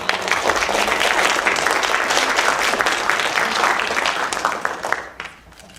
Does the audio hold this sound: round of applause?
yes